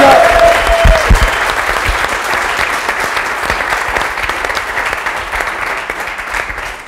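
A crowd at a pre-game NBA watch event for Wolves versus Warriors claps and cheers loudly and continuously, dense applause filling the whole stretch.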